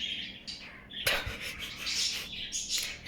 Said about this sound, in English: oh my god, those birds.